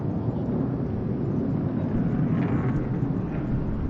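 Sukhoi Su-57 fighter jet at the Dubai Airshow, a steady loud roar of jet engine noise filling the whole stretch with broad rumbling, continuous and close, no talking.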